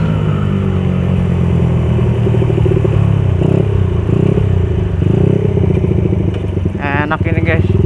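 A Suzuki Satria FU motorcycle fitted with Racingboy parts runs loudly and steadily nearby with a rough, throbbing engine note, while a voice talks over it.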